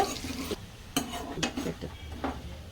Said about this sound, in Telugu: శుభ్రంగా నూనెలో వేసి వీటిని ఫ్రై చేసుకుంటున్నాము ఇది గోల్డెన్ బ్రౌన్ కలర్ వచ్చే వేయించుకోవాలి